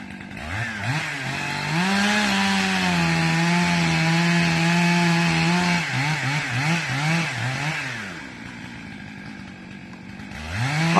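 A chainsaw roars through tall trees while felling them, its engine pitch rising and dipping as the cut progresses, loud and steady with no talk before it eases off near the end.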